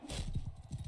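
Horse hooves clip-clop in a rapid, close rhythm of thuds during mounted combat in the video game Mount and Blade II Bannerlord, with a possible faint whinny and no talking.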